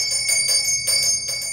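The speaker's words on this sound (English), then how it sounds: "The call bell chimed for the servants." A bright metal servants' call bell rings in quick repeated strikes at a historic village, clear and close, each ring sustaining a sharp high tone before the next.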